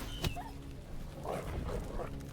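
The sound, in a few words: dog enemy being attacked in video game Crown Wars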